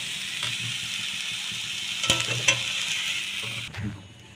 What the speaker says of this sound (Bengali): তো ডালটা ফুটছে একটু একটু,